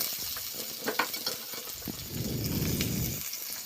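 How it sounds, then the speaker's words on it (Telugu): Onions fry in hot oil with a soft, rising sizzle, preceded by a few light clicks and taps of a utensil against the pan, close by with no talking. "తగినంత నూనె వేసుకొని ఉల్లిపాయలు బాగా ఫ్రై చేసుకోవాలి"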